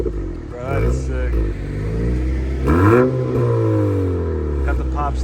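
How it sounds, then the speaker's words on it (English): A 2018-2023 Honda Accord with an active exhaust running muffler and resonator delete, revving up and settling several times, with a deep loud drone and rising, falling pitch, while people talk over it nearby. "That's muffler and resonant delete right now. See, that's a lot louder."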